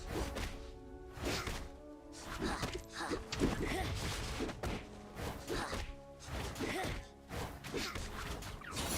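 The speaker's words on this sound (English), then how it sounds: "Your team has destroyed a turret." Turret destroyed in League of Legends: a dense, crashing in-game destruction with heavy thuds and smashing impacts over layered game music and effects, loud and continuous throughout.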